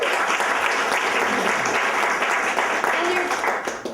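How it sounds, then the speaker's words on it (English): Audience at a wellness day event applauding, steady dense clapping filling the whole clip at close range, with a faint voice briefly audible in the middle. "So I really just want to give them a round of applause."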